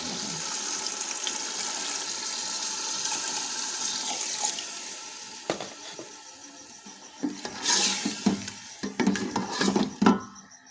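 Water poured into a pan of cooking potatoes, a steady close rushing hiss for several seconds, followed by a burst of bubbling sizzle and scattered clinks of a utensil against the pan.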